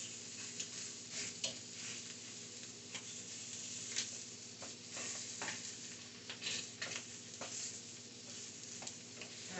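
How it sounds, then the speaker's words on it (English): Blackened tilapia sears in a hot pan, giving a soft, steady sizzle with scattered light ticks and scrapes throughout, quiet and fairly distant, over a faint low hum. "this is most definitely not going to take a long time to sear this fish"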